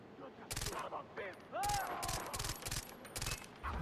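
Repeated bursts of rapid gunfire in the video game Far Cry 3, with loud volleys spaced by short pauses and softer in-game sounds between them.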